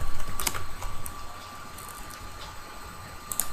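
Computer keyboard typed on while writing Python code: a few quick clustered keystroke clicks near the start and end, with a quieter gap between, over faint steady room hum.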